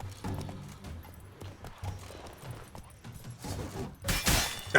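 Roach, the horse in The Witcher 3, clops along in rhythmic hoofbeats under battle noise, and a sharp burst of impact or gunfire breaks in near the end.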